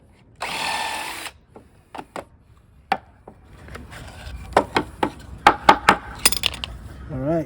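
A drill bores pocket holes in a wooden cabinet frame for a Honda Element camper, a short whirring burst followed by scattered knocks, clicks and wood taps of handling, close and moderately loud.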